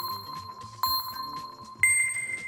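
Notification bell chime sound effect with three clear metallic dings in quick succession, each rising slightly in pitch, bright and close with a lingering ring over soft background music.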